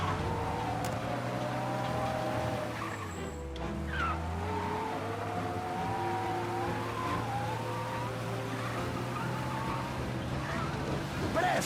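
A car driven in the video game Mafia: Definitive Edition, with a steady engine drone and tire noise throughout, brief squeals and whooshes over it, and a faint voice in the mix.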